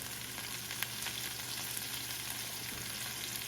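Chopped raw mango sautéing in a pan, a steady soft sizzle of frying with occasional light stirring clicks and scrapes, fairly quiet and without voices.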